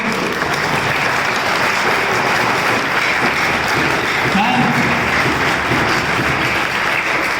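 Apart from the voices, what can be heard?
applause at retirement ceremony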